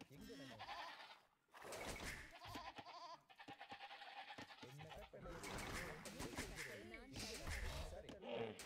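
Several sheep bleat in short bursts over background Age of Empires II music and effects, fairly loud and close.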